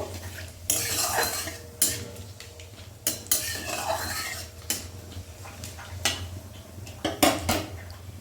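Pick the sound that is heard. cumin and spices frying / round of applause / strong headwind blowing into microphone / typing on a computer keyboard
cumin and spices frying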